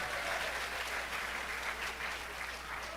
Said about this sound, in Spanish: Dele palmas a Cristo, hermano.